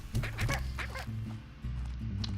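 Chickens cluck in the Slime Rancher video game, a steady run of short squawking calls over a constant low synthetic backdrop of game music and ambience, with no talk.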